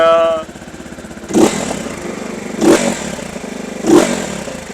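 A single-cylinder Zongshen RX3 2026 motorcycle engine revs three times in evenly spaced bursts, loud and close, settling back to a chugging idle between each.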